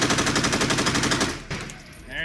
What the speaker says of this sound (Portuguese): aqui a gente tem uma Uzi com uma coronha